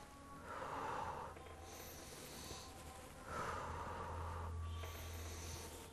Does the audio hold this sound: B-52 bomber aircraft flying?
no